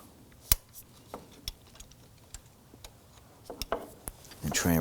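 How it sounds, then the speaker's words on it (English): Box end wrench loosening a camshaft position sensor bolt on a 2005-2009 Subaru Legacy 2.5L H4, giving scattered sharp metallic ticks and clicks at irregular intervals, close up and fairly quiet. "Now I'm going to go ahead and use my box end wrench here"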